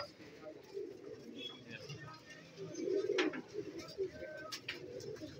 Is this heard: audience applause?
no